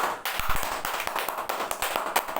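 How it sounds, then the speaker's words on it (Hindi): A group claps its hands in dense, lively applause to welcome a teacher at a gathering. The sound is close and continuous, with no talk over it. "एक बार सद्दाम सर के लिए जोरदार ताली का स्वागत करेंगे।"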